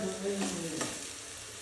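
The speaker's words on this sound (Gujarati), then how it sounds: "હવે આપણે છે ને ડુંગળીને સાંતળી લેશું એકદમ કલર બદલે ને ત્યાં સુધી" Onions sauté in oil with a quiet, even sizzle and a light stirring scrape, heard briefly and fairly softly with no speech.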